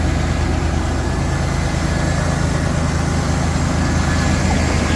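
A Camaro's 2.8 liter V6 engine, which has a fuel leak, runs at a steady idle with a continuous low rumble and drone, loud and close throughout.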